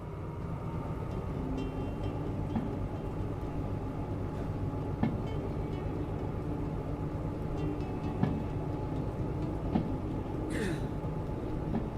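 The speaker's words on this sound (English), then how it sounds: "let's get this train moving." A train rumbles along steadily in the railway video game Derail Valley, with a continuous low drone and occasional faint clicks and squeals, loud and unbroken with no talking.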